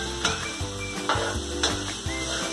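Sinangag fried rice sizzling in butter in a pan, stirred with a spatula in several regular scraping strokes over a steady close frying hiss.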